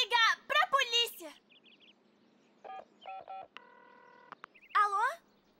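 Telephone keypad tones sound as someone dials the police, a run of short beeps following a spoken exchange, with more speech afterwards in a cartoon scene.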